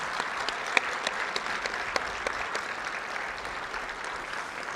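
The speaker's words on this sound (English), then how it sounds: "Let's give them one last round of applause." Audience applause at a hockey award banquet honoring high school players, a steady moderate clapping from a large room that continues throughout, with no voices over it.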